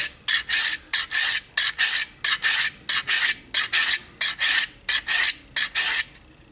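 A steel blade is stroked across the 300 grit face of a Harbor Freight four-sided diamond hone block: about seventeen loud, even rasping passes in a steady rhythm, each separated by a short pause.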